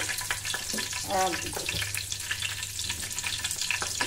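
Cumin seeds and a bay leaf crackle and sizzle in hot oil, a dense, steady frying hiss with small pops and utensil stirring throughout, close and fairly loud.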